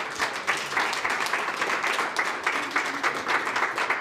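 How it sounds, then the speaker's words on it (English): A crowd applauds at a community policy gathering in Central Indiana, honoring a state senator; steady, dense clapping fills the whole stretch at moderate loudness with no talk over it. "let's give a big round of applause to State Senator Fadi Kadora."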